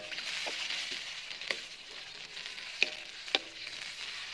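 Boiled mango being stirred in a pan for bagoong mangga, a soft continuous sizzling hiss with a few sharp spoon clinks against the pan.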